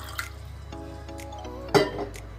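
Water poured from a glass into uncooked rice in a cooking pot for jeera rice. Close, soft drips lead into one short splashy pour near the end.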